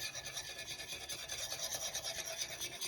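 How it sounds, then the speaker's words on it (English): A whisk rapidly scrapes and stirs a tablespoon of flour into a Cajun pasta sauce with andouille sausage, chicken and shrimp, a quiet, steady, rhythmic rasping close by, with no talk. "I'm going to whisk in a tablespoon of flour"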